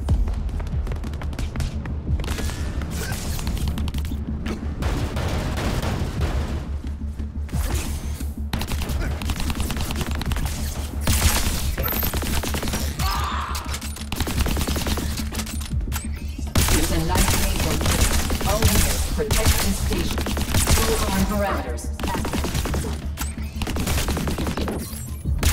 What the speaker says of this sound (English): Active agent, those turrets are gunning for you.